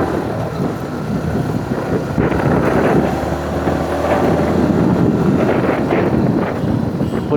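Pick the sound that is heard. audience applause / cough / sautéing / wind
wind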